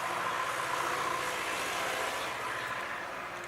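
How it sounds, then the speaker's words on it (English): A loud, rumbling tractor engine chugs steadily nearby, a low pulsing drone that fades slightly toward the end. "That tractor's pretty loud."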